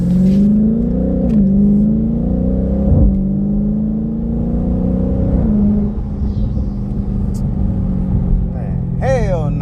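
Dodge Charger Scat Pack with an MBRP street catback exhaust on a test drive, a deep droning engine rumble with rising and falling revs heard from inside the car, with people talking over it.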